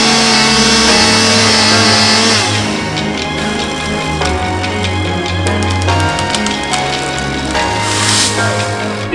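Chainsaw cutting into a tall, spindly Italian poplar during a tree-felling cut: a loud, close two-stroke engine drones steadily, its pitch rising and falling in stepped revs throughout with no voices.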